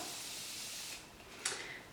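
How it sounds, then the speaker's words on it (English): Morphe Continuous Setting Mist sprayed onto a face, heard as a soft, steady hiss that fades and then returns briefly as a short spritz near the end, fairly quiet and close. "I'm going to set my face with some setting spray."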